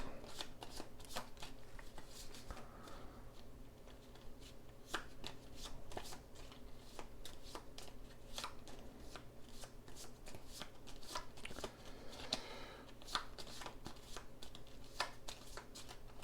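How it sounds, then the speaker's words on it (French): Cards for the Warp's Edge board game shuffled repeatedly, a string of soft riffling and tapping bursts close by, faint and steady throughout. "Il faut remélanger ces cartes-là."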